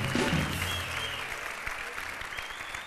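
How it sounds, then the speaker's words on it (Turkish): A TV studio audience on Beyaz Show claps for guests, a steady, fairly even wash of applause that holds through the moment, with a brief voice and music-like tone at the start. "Sevgili Kıvanç Kasabalı ve Sedef'e kocaman bir alkış alalım."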